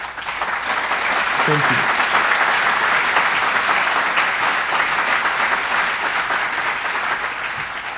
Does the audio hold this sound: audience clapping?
yes